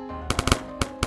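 Gunfire from a sniper rifle in a shooting video game cracks out in six sharp shots, a quick cluster of four followed by two more after a brief pause, loud and close.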